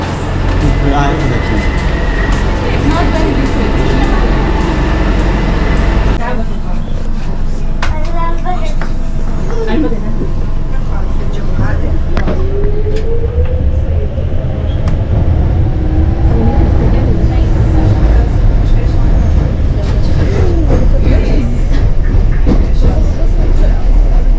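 London Underground train running towards Canary Wharf, a loud continuous rumble and roar of the carriage with rail clatter and squeals, announcements and voices heard under the noise.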